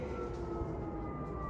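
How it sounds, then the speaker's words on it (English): Emergency sirens passing outside, a faint steady wail heard from a distance through walls over a low background hum. "More sirens."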